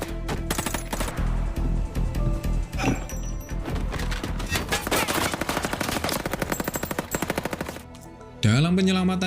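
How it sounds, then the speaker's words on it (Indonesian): Dense automatic gunfire and shots from the 2016 action film Mechanic: Resurrection, loud and sustained bursts with crashing impacts under a music score, ending with a brief tonal swell. "Gina sendiri sempat terkena tembakan saat dirinya berusaha melawan para anak buah dari Crane"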